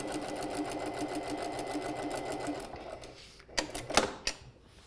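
A sewing machine stitches fabric while a kimono sleeve pattern is made, a rapid steady needle chatter for a few seconds. It then stops and a few louder clunks and knocks follow.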